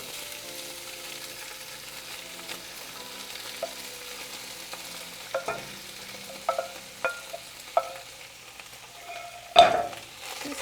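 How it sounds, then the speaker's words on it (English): Meat fries in melted lard in a Dutch oven over medium heat for barbacoa tacos, giving a steady close sizzle broken by a few stirring scrapes and a louder clatter near the end. "So now we're going to fry our meat for about 5 minutes."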